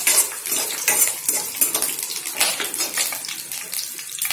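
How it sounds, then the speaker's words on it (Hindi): Chopped onion is sautéed and stirred in a pan. Busy metallic scraping and clattering of the spoon against the pan repeats rapidly and close up, with no voices. "एक प्याज के, और उसको हल्का सा सौते कर लेंगे। तीन चार मिनट चलाना है"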